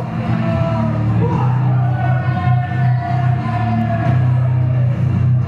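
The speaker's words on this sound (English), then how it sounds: "Getting a nice ovation from the Batley crowd." Wrestling crowd in Batley giving a loud, sustained ovation for the Dogs of War tag team, a dense wall of yelling, whooping and cheering voices with steady background music underneath.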